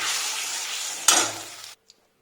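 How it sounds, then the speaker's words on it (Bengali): Pumpkin curry sizzling and frying in a pan, a steady hiss with a brief stirring scrape partway through, then the sound cuts off into near silence with one small clink. "এখন আমি বসাচ্ছি কুমড়োর তরকারি এখানে কুমড়ো রান্না বসেছি"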